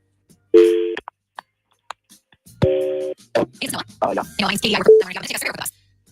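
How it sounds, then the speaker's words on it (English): Telephone line tones during an outgoing radio-show prank call: two bursts of steady ringback or dial tones, each about half a second, followed by several people talking over faint line tones. "So let's make that phone call right now."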